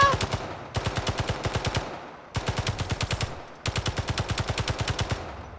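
A turret machine gun fires in the video game Space Engineers, with three or four rapid bursts of evenly spaced shots, loud and close, each burst leaving a short decaying tail.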